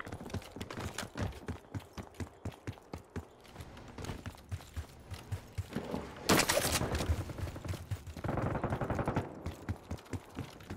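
Rapid automatic gunfire in Call of Duty: Black Ops 6 pounds in steady rhythmic bursts, close and sharp, with a louder explosive blast midway and a brief voice under the shooting.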